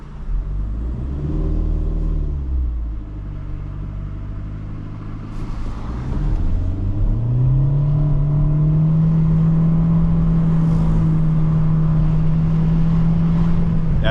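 Chevrolet Spark with a CVT under hard acceleration, its engine droning and rising in pitch then holding a steady high, strained note, loud and close throughout with no talk.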